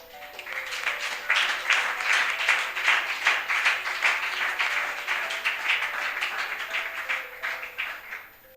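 A church congregation applauds and cheers for God, producing dense, steady clapping that swells and holds for several seconds as a broad crowd roar, with no speech over it.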